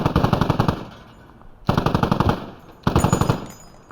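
Automatic gunfire in the military shooter game Squad: three loud sustained bursts of rapid rounds, each about a second long, separated by short pauses, with no talking.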